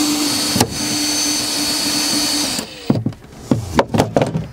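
An electric drill fitted with a 2.5 mm bit, used while building a motorboat, whirs steadily for a few seconds, then gives a series of short, sharp bursts as it bites and stops.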